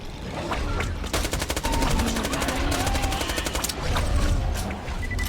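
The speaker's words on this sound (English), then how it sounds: "Where's that SMG I just got? I want to try it out." Rapid SMG bursts in Borderlands: The Pre-Sequel, loud fast-repeating gunfire in several sustained volleys over game ambience, with a voice talking faintly underneath.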